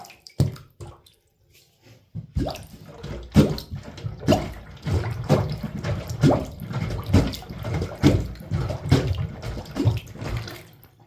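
Water drains from a freshly unclogged bathtub drain, a loud, continuous churning gurgle with splashy bursts that builds after a few quiet seconds.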